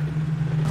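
A fast vehicle's engine drones in a PUBG race, a brief, steady low hum at moderate volume.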